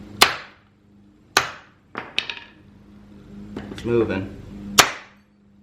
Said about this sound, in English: a big hammer. You just pound them out.